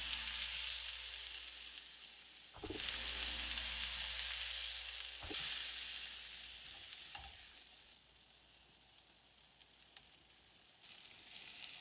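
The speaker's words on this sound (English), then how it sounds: "I allowed it to simmer for some time, and I added beef seasoning and some salt to it" Vegetables with beef seasoning and salt simmer and sizzle in a pan, a constant hissing bubble with a couple of sharp clanks from the utensil partway through, no voices.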